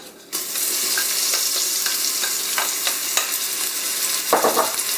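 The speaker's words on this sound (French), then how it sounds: "Puis j'ajoute l'oignon." Chopped onion hits hot oil in a Moulinex Cookeo multicooker for mushroom risotto, bursting into a loud, steady sizzle after a brief quiet start, with rhythmic stirring scrapes and a louder scrape near the end.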